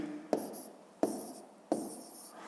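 A pen or pencil writes a number by hand on paper in three short, distinct bursts of scratching, each starting with a sharp tap, close and quiet, with no talking.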